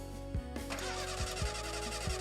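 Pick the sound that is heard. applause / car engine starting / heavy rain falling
car engine starting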